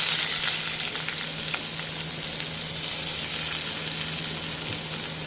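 Steady, loud sizzling of onions frying in hot oil, a continuous crackling hiss with faint scraping now and then.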